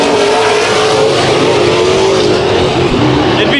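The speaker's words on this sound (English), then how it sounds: "Good battle between the 1 and 2 car." Race cars dicing in a dirt heat race, number 1 and 2 machines screaming past close together, a loud, dense roar of revving engines filling the whole short stretch.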